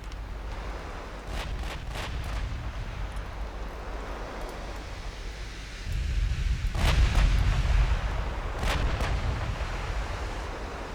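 Naval main guns fire armor-piercing shells in a dreadnought-era battle game, deep booming reports rolling over a low rumble, with a heavier, louder barrage swelling midway.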